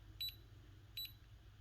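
A Digimon Color V-Pet toy gives two short double beeps, high and electronic, spaced under a second apart over a low background hum.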